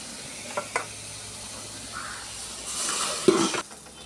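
Food fries in a pan and is stirred: a soft sizzle with a couple of utensil taps early on, then a louder hiss near the end before it eases off. Close by, and no one speaks.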